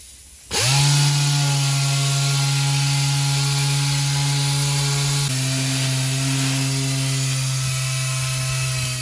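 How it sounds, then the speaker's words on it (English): A power sander with a sanding disc starts up on the body of an Audi RS3 during a repair, running with a steady, loud motor whine and abrasive hiss, shifting pitch slightly partway through. "We'll do one more pass with a finer grade of paper or sanding disc"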